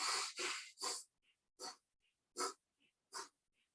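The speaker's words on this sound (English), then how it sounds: "gear 3 is going to be nasal in, nasal out, but it's going to be at a really increased rate" Rapid breathing in and out through the nose as a paced drill, a string of sharp close sniffs and exhales in quick rhythm, with short gaps between them, alone and fairly loud.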